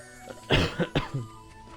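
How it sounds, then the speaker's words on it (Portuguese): A few sharp coughs in quick succession, close and fairly loud, followed by a softer throat sound, with quiet background otherwise. "Foi mal pela tosse, pessoal."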